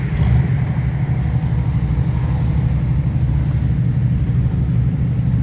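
An Audi race car engine idles on the false grid before a race at Virginia International Raceway, a deep, steady rumble that holds at an even level throughout with no voices.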